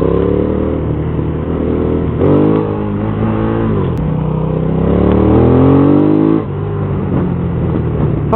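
An Aprilia Caponord 1200 sport-chassis trail motorcycle on a test ride, engine loud and close as it accelerates through the gears with rising revs, brief dips at shifts, and constant wind rush.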